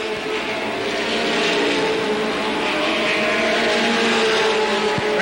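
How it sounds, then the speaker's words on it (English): Late model race cars roar around the track at a 1985 race, one car's engine sounding rough, a steady loud blend of engines near and far with broadband racing noise throughout. "Pete Seitz in the 57, not sounding any too healthy either."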